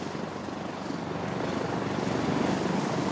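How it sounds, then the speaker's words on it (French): Caracal helicopter arriving at a July 14 special forces demonstration, its rotor a loud, steady whirring roar that grows slightly stronger as it nears. "Et l'hélicoptère va arriver."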